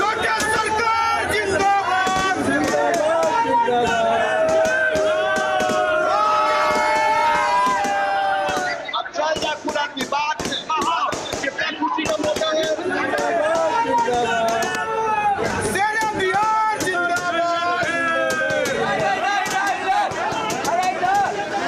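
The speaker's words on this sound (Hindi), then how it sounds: "तब देखिए हजारों की भीड़" Thousands of supporters crowd around a politician's residence in Bihar, cheering loudly and continuously with a dense wall of shouting voices and excited chatter close by throughout.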